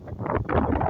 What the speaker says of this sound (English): The camera is shaking because of the wind.